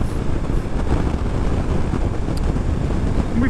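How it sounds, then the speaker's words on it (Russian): Strong crosswind roars and buffets steadily against a riding motorcyclist's microphone on a solo European motorcycle trip, a dense, continuous rush with no pauses. "Что-то сильный ветер боковой."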